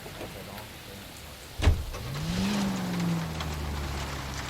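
A car drives in the video game L.A. Noire, its engine note rising after a sharp thump, then holding as a steady hum over rainy ambience, with no talking.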